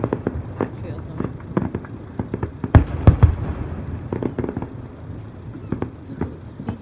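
Fireworks burst at the Jersey Battle of Flowers, a rapid series of sharp cracks and booms, some distant and some closer and louder, with people talking over the display.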